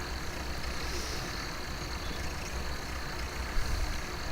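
A Farming Simulator 17 tractor engine drones steadily and continuously at moderate volume with no talk, a constant low rumble of machinery running alone.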